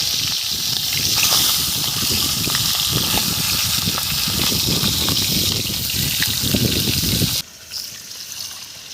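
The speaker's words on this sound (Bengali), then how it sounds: "ডালটা আগে ধুয়ে নিচ্ছি।" Mung lentils are washed under a continuous rush of water with sloshing and splashing, which stops abruptly near the end, leaving faint background noise.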